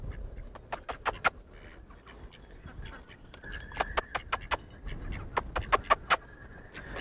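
Ducks quack in short, sharp bursts, clustered in quick runs with brief pauses between them, fairly close against a low, murmuring background.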